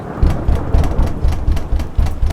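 Cartoon heavy rain pours down with deep rumbling pulses of thunder rolling underneath, loud and close, with no voices.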